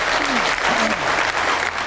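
A studio audience at a televised talent-show final applauds Ayşə xanım with steady, dense clapping throughout, while a voice speaks over it.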